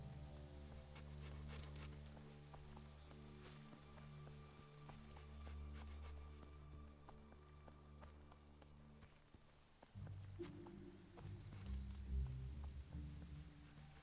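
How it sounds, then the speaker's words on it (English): Horse hooves clip-clopping in the Fable 2 video game, a steady rhythmic trot under layered game music and ambience, no voices. "Hello, horses."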